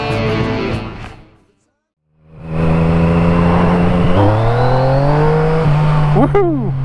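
Yamaha MT09 motorcycle pulling hard in first gear, loud and close. The engine roar drops out for a moment, then returns with a steady, climbing rev.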